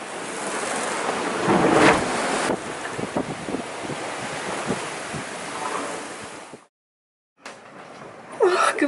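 Steady roar of Atlantic Ocean waves and wind buffeting the microphone aboard a sailboat at sea, a loud gust surging midway, then a brief dropout before the rushing resumes.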